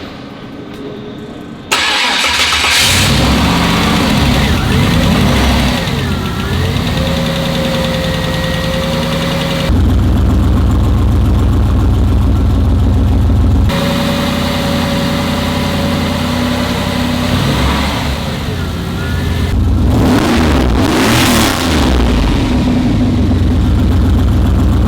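Turbocharged LS V8 in an HT wagon fires up after cranking, settles into a lumpy idle, then gets several strong revs with rising and falling pitch, loud and close.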